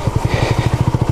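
A Honda CB250RS single-cylinder motorcycle chugs along a slippery, rutted green lane off road, its engine throbbing in a quick, even pulse, loud and close, with no voices.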